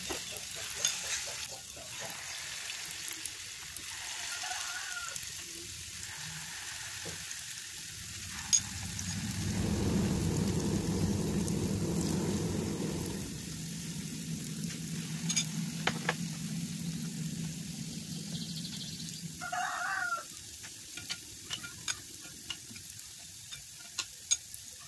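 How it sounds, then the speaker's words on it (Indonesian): Cake batter frying one piece at a time in a wok over medium-low heat, a soft steady sizzle with occasional stirring and scraping clicks, close and moderately quiet. "kita ambil adonannya ini untuk digoreng ke dalam wajan satu per satu"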